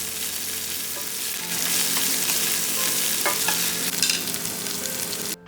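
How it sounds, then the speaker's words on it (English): Coarsely ground ginger garlic paste being stirred and sautéed in a hot pan gives a steady, close sizzle and frying hiss with occasional scraping from the spoon. "let me add ginger garlic paste coarsely ground. Mix it nice and proper and allow it to saute for another 2 minutes."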